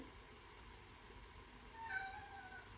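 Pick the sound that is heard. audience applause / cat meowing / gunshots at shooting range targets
cat meowing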